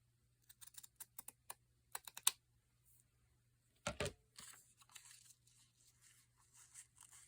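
Paper being trimmed for a handmade winter journal, with a run of crisp, quick cutting and snipping strokes close up, one louder burst, then softer shuffling and handling of the paper; no one speaks.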